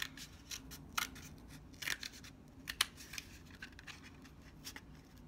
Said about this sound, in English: It's obnoxious to cut squares in cardboard.